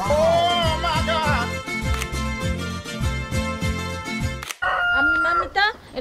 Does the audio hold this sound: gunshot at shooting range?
no